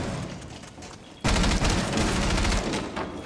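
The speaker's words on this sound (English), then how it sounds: "playing with a shotty right here" Shotgun blasts in a competitive tactical shooter match: a loud burst of gunfire cuts in after a quieter stretch, followed by dense, rapid repeated reports and clatter continuing to the end.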